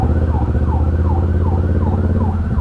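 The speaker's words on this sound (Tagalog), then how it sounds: "Unahin nyo na muna yung ambulansya. Baka emergency yan." An ambulance siren wails in a steady rising-and-falling cycle through night traffic, loud and close, heard from a motorcycle ride on a Kawasaki Ninja 650, with engine and road rumble underneath.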